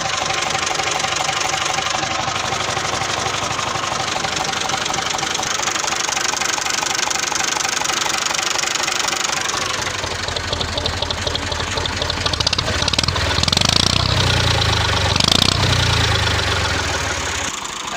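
A 1994 Massey Ferguson MF 240 tractor engine runs steadily close by with a rough, knocking diesel idle, growing heavier and louder in its second half, with no talk over it.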